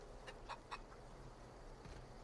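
Chicken clucking in the video game The Outer Worlds: a few short, quiet clucks in quick succession over a low ambient game background, with no talk.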